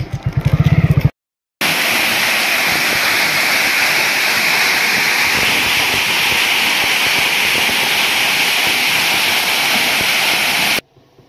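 Loud, constant roar of rushing water from Kharsura waterfall near Ambikapur, India, broadband and unbroken, heard close after a brief engine-like rumble at the start.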